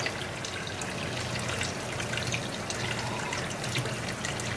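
Water trickles and drips steadily around six-week-old AussieDoodle puppies, a soft continuous splashing and dribbling close by with no talk over it.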